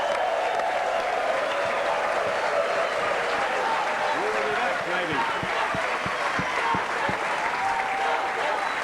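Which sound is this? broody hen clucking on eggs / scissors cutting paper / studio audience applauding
studio audience applauding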